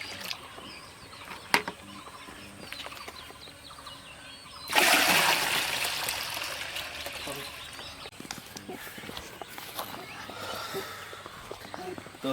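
Plant fertilizer mixed into water for mango trees, a burst of splashing and sloshing that starts after a few seconds and gradually settles into trickling, with faint talking nearby.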